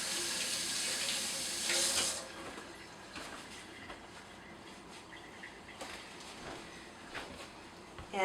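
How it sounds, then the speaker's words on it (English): A tap runs loudly as hands are rinsed after making salt dough, splashing steadily for about two seconds, then a softer trickle and faint clinks continue at close range. "I'm going to rinse my hands."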